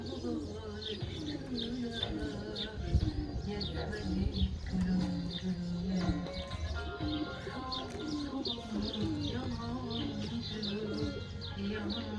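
Pigeons coo repeatedly in a loft, several birds overlapping in soft rolling calls with occasional chirps, close and continuous throughout, with a voice talking at times.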